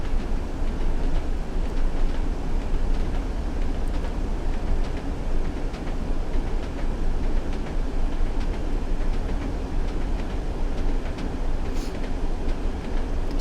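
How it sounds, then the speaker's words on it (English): A Class 40 diesel locomotive hauling freight wagons passes in Train Sim World 2, a steady loud rumble with rhythmic clickety-clack of wheels over rail joints throughout. "There goes a Class 40. Some freight on the back."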